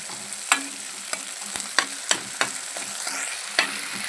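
Potatoes fry in a pan with sesame and chopped onion as they are mixed, giving a constant near sizzle with several sharp spoon scrapes and knocks at irregular intervals and no talk.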